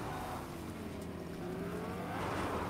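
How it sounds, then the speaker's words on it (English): Vehicle engines of a transport truck and a sports car in a Fortnite match, a steady continuous drone with a rising whine, moderately loud and without talk. "We have a transport truck, we have a sports car."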